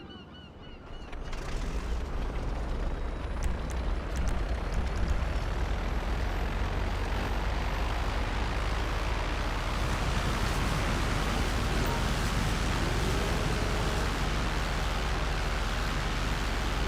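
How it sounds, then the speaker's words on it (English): A jet airplane in GTA Online roars as it takes off, a loud steady engine rumble and whoosh that swells in the first second or two and then holds, with no talking. "Sound like a jet, but it might have just been just me taking off."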